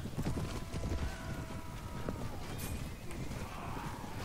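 Horse hooves clip-clopping in the Mount & Blade Warband battle game, a steady patter of galloping beats under clashing combat noise with a faint whinny.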